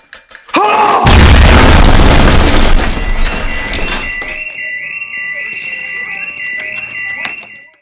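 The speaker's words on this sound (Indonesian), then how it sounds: "Akibat dari ledakan ini, Hector Salamanca, Gustavo Fring, dan Tyrus dinyatakan meninggal dunia" Explosion from the TV drama Breaking Bad: a sudden loud boom bursting after a short lead-in and rolling into a long decaying rumble, followed by a high ringing alarm tone that persists to the end.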